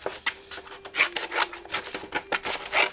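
Stiff Norton 180 sandpaper being cut from a commercial roll, heard as quick irregular scraping and rasping strokes, close and fairly quiet, with no voices.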